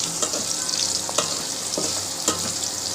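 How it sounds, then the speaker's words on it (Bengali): Onion and green chilies fry in oil in a wok, with a steady loud sizzle and a few scraping stirs of a spatula, close up and with no voices. "কড়াইতে পেঁয়াজ তেল কাঁচামরিচ দিয়ে একটু নেড়ে নিলাম।"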